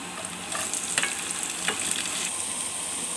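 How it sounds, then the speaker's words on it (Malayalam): Sliced onion dropped onto ginger, garlic and green chilli in hot oil for squid roast, a bright steady sizzle with a few scraping stir strokes, close and fairly loud, no talking. "ഇനി ഇതിലേക്ക് നമുക്ക് സവോള ഇട്ട് കൊടുക്കാം"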